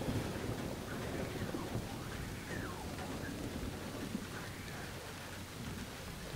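Dense, steady rainfall in Splinter Cell: Blacklist hisses continuously, with a low rumbling undertone like distant thunder; no voices.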